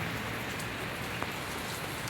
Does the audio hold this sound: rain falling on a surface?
yes